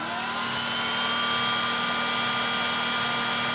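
An Oraimo UltraCleaner S vacuum cleaner runs indoors with a steady, even whir and a high motor whine, close and moderately loud throughout with no voices.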